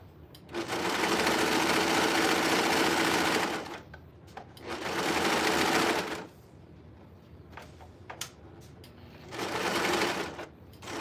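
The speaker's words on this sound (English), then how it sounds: "This is probably my favorite part of sewing, though, was serging and getting to watch all the machine work and it cut everything" A serger sewing machine stitches and trims fabric in three loud, steady bursts of rapid whirring, separated by short pauses with light handling noises between runs.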